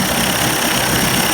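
A 1990s 30 hp Evinrude outboard motor idling in neutral after a rough-idle and stalling repair, a steady close buzzing drone with no talking over it.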